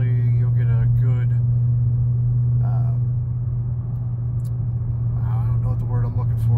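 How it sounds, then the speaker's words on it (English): Inside a car with cat-back exhaust, muffler delete and both resonators deleted, a loud steady low drone fills the cabin continuously while a person talks briefly at the start and near the end. "you get a good representation of what the audio sounds like inside my car with the cat back, the muffler delete, and both resonators deleted"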